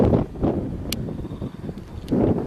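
Low rumbling gusts buffet the microphone on a high, exposed spot overlooking the Atlantic, swelling loud at the start and end with a few faint clicks between.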